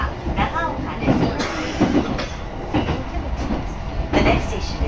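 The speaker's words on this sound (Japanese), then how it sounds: "この列車は信越線普通列車長岡行きです。" A Shin'etsu Line local train bound for Nagaoka rumbles steadily along the track with rhythmic wheel clatter and low running noise, with a voice speaking over it now and then.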